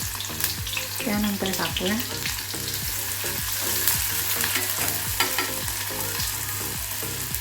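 Chopped onion frying in hot oil for spicy Maharashtrian besan pithla, a steady loud sizzle with occasional stirring scrapes; a voice speaks briefly over it.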